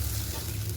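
Ginger sizzles and fries in a pan in a village Bengali kitchen, a steady close crackle with no pauses over a short stretch.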